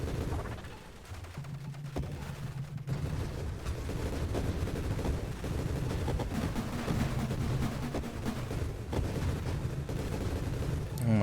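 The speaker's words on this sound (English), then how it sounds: "So many explosions." Rapid explosions in the space shooter video game Nova Drift, dense crackling bursts firing continuously like heavy gunfire over a low game soundtrack, steady and loud for the whole stretch.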